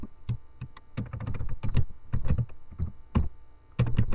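Keys clatter on a computer keyboard while HTML code is typed, a close run of irregular quick clicks in short bursts with brief pauses and no voices.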